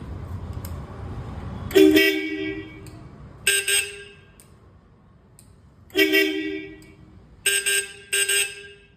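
A modified Royal Enfield Thunderbird motorcycle's large aftermarket horn honks in short blasts, a single toot, then another, then a pair and two quick ones, loud against a quiet background.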